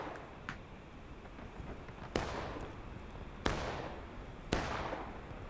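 Musket volleys in a Civil War video game skirmish: three sharp, distant cracks spaced a second or so apart, each trailing into a short echo over a steady low background rumble, with fainter shots scattered early on.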